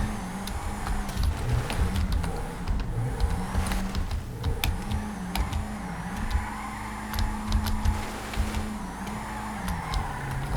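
A modified car does burnouts in the video game GTA 5, its engine holding a steady wavering drone broken by sharp ticking clicks throughout.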